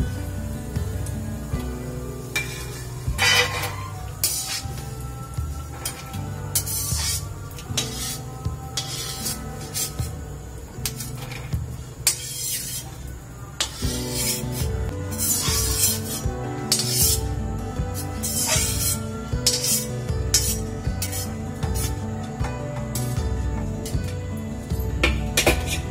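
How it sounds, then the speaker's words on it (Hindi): Grated coconut roasting in a pan for sweet khoya samosa filling, giving a steady close scraping and rasping with clinks of a spoon against the metal pan, continuous throughout with no talking. "ये नारियल घिसा हुआ, जो मैंने नारियल घिस लिया था वो भून रही हूँ।"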